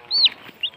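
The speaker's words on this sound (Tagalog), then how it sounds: "Ang sisiw oh." A chicken on a farm gives two short, close, high-pitched calls, the first longer than the second.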